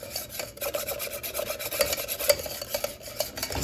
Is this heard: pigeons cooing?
no